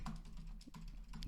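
Rapid, uneven keystrokes on a computer keyboard, close and fairly loud, with a steady low hum running underneath and no voices.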